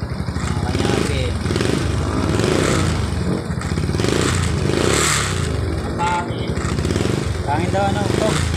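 Honda TMX 125 Alpha motorcycle engine revved repeatedly during an RPM test, a loud close rough clatter rising and falling in pitch, with someone talking over it.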